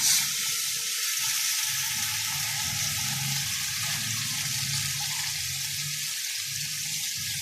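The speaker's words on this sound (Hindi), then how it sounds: "उसमें पानी हम 6 कप डालेंगे।" Steady running water pours and splashes into a pot for cooking rice pulao, a continuous hiss with no pauses and no voices.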